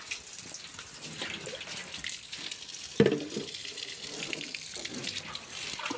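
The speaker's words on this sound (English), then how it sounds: "We're also going to add some water into these jerry cans for these small cows, for the smaller cows." Water pouring into jerry cans for cows on an African organic farm, a continuous splashing gush with a sharp louder splash midway, close and steady without talk.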